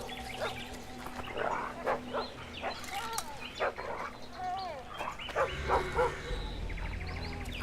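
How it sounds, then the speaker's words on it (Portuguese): A dog in the video game The Witcher 2 barks, yips and whimpers in a scuffle, mixed with snarls and other creature noises at moderate level amid game ambience. "O cachorro tá lutando contra o quê?"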